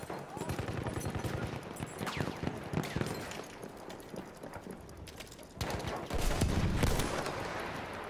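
Rifle and machine-gun fire rattles across a World War I video game battle at Verdun, with bursts of rapid shots and scattered cracks at varying distances, busy and continuous, with faint voices in the mix.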